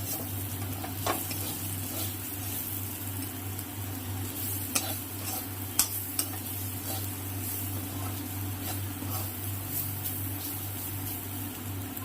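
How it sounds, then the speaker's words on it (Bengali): Beetroot frying in a pan and being stirred, with a steady sizzle and scattered soft scrapes and taps of the spoon, close and continuous with no talking. "একটু নেড়ে ফেলে নিলাম এই বিটগুলো পুরোটা নেড়ে"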